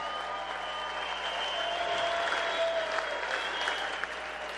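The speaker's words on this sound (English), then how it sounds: "how about a big round of applause for both of these great warriors?" A crowd at a boxing match between Quiles and Cherry gives steady, sustained applause for both fighters after the bout, with faint talk mixed underneath.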